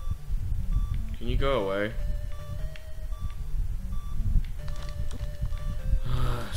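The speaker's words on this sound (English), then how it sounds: "The beeping is real." Thin electronic beeps repeat at a steady pitch in Zelda II: The Adventure of Link, carrying through the whole stretch while a person talks and breathes near the mic.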